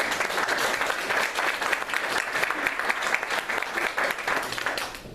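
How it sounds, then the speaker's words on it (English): A room full of people applauds for Michelle at a basic training event, dense continuous clapping that stays loud and steady throughout with no voices on top. "Let's give Michelle a round of applause,"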